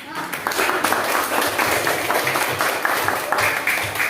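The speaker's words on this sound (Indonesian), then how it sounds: "Oke, sekali lagi tepuk tangan." A classroom group claps hands together in a brisk, rhythmic round of applause, fairly close, with voices mixed in over the clapping.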